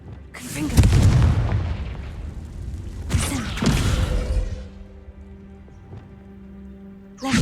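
Confringo blast spells exploding in the Hogwarts Legacy video game, two heavy booms about two seconds apart, each rumbling and fading, followed by a low sustained hum and a sharp final hit.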